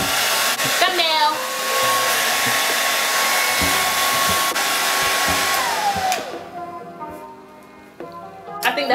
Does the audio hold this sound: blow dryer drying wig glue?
yes